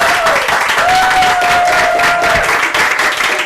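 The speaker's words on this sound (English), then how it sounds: "please give him a big round of applause" Applause from an evening lecture audience welcoming Dr. Christopher Houghton, a steady dense patter of clapping lasting a few seconds, with a faint voice briefly audible above it.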